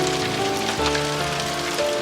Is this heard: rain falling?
yes